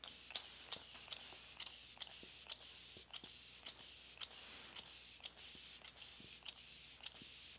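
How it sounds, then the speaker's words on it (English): A fine mist of rose water face spray hisses in quick repeated bursts, a steady rhythm of short pumps heard up close with faint clicks between them. "I'm just going to spray the face with this."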